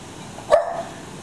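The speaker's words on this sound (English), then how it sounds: "what are you barking at?" A puggle dog gives a single short bark at a sunroom, one sharp yelp standing out alone against a quiet background.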